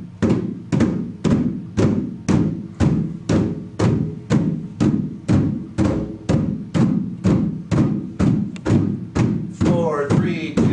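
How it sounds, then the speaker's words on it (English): Hand drum in a drum circle, struck in the middle with cupped hands: a fast, even run of deep thumping hits, loud and close, around twenty strikes in a steady rhythm before stopping. "We're gonna hit right in the middle of the drum like this."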